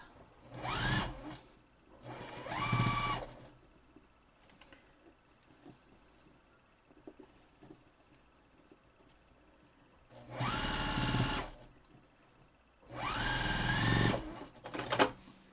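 A sewing machine stitches fabric for an N95 mask in four short whirring bursts, each a second or two long, separated by quiet pauses with faint handling noises, close up and with no talking.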